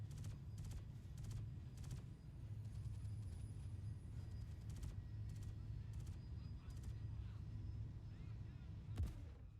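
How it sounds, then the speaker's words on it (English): Grenades and gunfire in the space game Star Citizen, a series of muffled distant bursts and sharp cracks over a steady low rumble of engine and battle noise, with a voice talking now and then. "Ooh, grenades."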